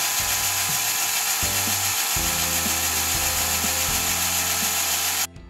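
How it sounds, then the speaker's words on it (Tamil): An electric blender grinds about a cup of black grapes into juice, a loud, close motor whir that shifts pitch as the load changes, then cuts off abruptly near the end. "பிளெண்டரில் 1 கப்பு போல் கருப்பு திராட்சைகளை ஆட் பண்ணி ஜூஸ் எடுத்துக்க போகிறேன்"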